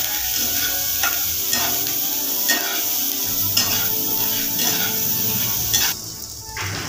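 Onions frying in hot oil with garam masala: a dense, steady sizzle runs throughout, with soft scraping stir strokes every second or so and a brief quieter dip near the end.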